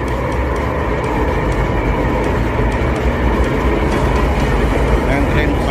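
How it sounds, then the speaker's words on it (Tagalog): An LRT train pulls into Asiana station with a loud, continuous rumble and rattle of rail cars close by, steady throughout, with a voice speaking over it. "nandiyan na yung train"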